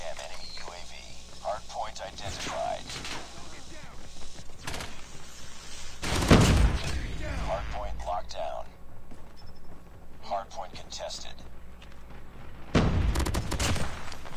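Bursts of QXR gunfire in COD Mobile, with several sharp volleys standing out among game announcer lines and in-game chatter, and a person talking throughout.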